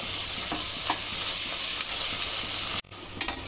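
Sliced onions sauté with coriander and a half handful of mint in a pan, giving a soft continuous sizzle with light stirring clicks and a brief break near the end.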